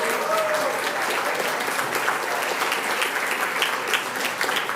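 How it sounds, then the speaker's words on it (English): A round of applause for a contestant at the Great Summerset Challenge Grand Final, a full, steady wash of many hands clapping for several seconds, with a voice faintly audible beneath it. "Can we have a round of applause?"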